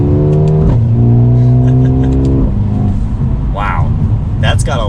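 A 2020 Mercedes-AMG CLA 35 pulls hard with a rising engine and exhaust drone that steps through gear changes, heard loudly from inside the cabin, with someone talking over the later part.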